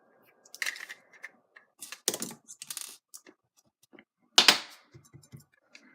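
Small screws being taken out of a 2005 Mac Mini G4 during a SATA drive install, heard as scattered close-up clicks, scrapes and metallic taps in irregular bursts, with one sharper clatter near the end.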